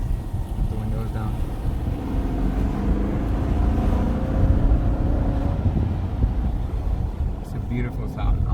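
Inside a Dodge Durango R/T driving with the windows down, a deep, rumbling engine note holds steady under rushing wind noise, and people talk over it.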